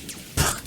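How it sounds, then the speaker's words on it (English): A single short, breathy cough bursts out after a quiet moment, close and fairly loud, trailing off into a rough exhale. "I'm trying to laugh and cough at the same time"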